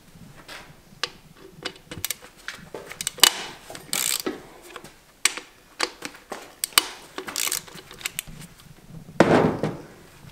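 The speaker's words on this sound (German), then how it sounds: "Zuerst schrauben wir mit einer 10er Vielzahnnuss die beiden Schrauben raus und nimmt den Lagerdeckel ab." Two bearing cap bolts on an engine crankcase being unscrewed with a 10 mm spline socket and ratchet, giving rapid clicking ratchet runs and metallic taps close up, in bursts with brief pauses.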